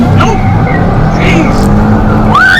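A manual Ford Ranger pickup truck roars loudly and continuously close by as its engine revs, with a rising whine near the end and a person talking over it.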